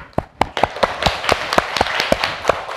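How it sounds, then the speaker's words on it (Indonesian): A classroom group claps in quick, uneven bursts, sharp hand slaps close by sounding in an irregular rhythm for a few seconds without speech. "Oke, kasih tepuk tangan."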